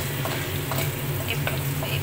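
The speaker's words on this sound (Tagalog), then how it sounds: "Magluluto ako ng bawang." Garlic fries in butter in a pan with a steady, close crackling sizzle and light stirring noises throughout, with no talking.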